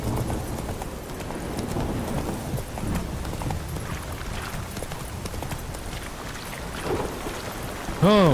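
In The Witcher 3, the horse Roach gallops, its hooves drumming in a fast, continuous clip-clop rhythm close up under a wash of rain-like game ambience, followed by a short tonal chime at the end.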